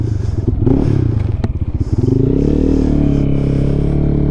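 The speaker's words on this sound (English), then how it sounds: "Boy, don't that exhaust sound good." A Lifan KPM 200 motorcycle with a new exhaust rumbles close by with a deep throaty note, a brief clatter, then revs up and holds a steady loud drone.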